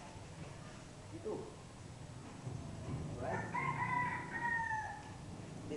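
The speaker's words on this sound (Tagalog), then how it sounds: "may mga manok dyan sa gilid" A rooster crows once at moderate distance, a long rising then falling call over steady background hum, with a brief voice just before.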